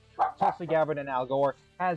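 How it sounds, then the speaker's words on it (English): Dogs bark and yip indoors in short bursts, mixed with a person talking over them. "Sorry if you hear my dogs barking,"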